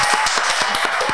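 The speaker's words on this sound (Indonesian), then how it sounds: "Ini kayaknya dari tepuk tangannya agak kurang ya." A thin smattering of applause from a small podcast studio audience: a few hands clapping in quick, uneven, close-up bursts.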